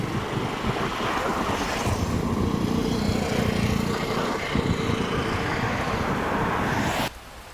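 Floodwater of the swollen Shedhi river rushes after heavy rain near Bilodara village, Nadiad, in a loud, steady, broadband roar that cuts off abruptly near the end.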